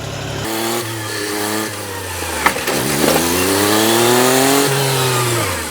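A tractor engine started with a key runs close by, its note climbing and dropping through two or three loud revs before settling into a steady, rising drone.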